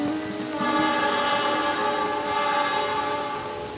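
The Argo Parahyangan train, Gajayana set, rumbles past close by in West Java, a steady loud roar of wheels and carriages with a sustained tonal horn-like drone running throughout.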